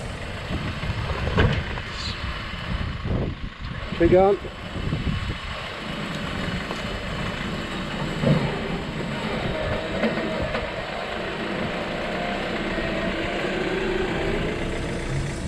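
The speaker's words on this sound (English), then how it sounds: "this poor guy in the van just could not get any traction" A van's engine revs hard as its wheels spin without grip on rain-soaked soil, a continuous straining drone with surges, while a voice briefly calls out.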